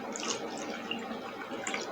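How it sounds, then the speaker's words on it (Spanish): Water, 100 millilitres, poured into a glass in a small chemistry demonstration, a steady close trickle lasting a couple of seconds with faint splashy highs and no talk. "en nuestro vaso número 1 vamos a colocar"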